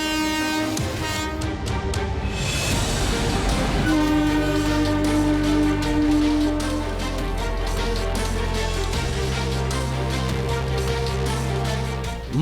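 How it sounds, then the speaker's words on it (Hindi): Trains at a crowded Varanasi railway station during the Mahakumbh rush: a loud, sustained train horn blares over heavy rumbling rail and engine noise, with a steady din of clattering carriages throughout. "वाराणसी रेलवे स्टेशन की ये तस्वीरें देखिए।"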